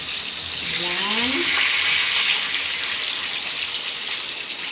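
Spam fries in a pan with a loud, steady sizzle and crackle close by, filling the whole stretch evenly while a voice speaks briefly over it.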